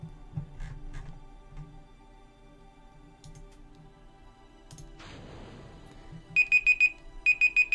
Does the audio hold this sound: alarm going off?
yes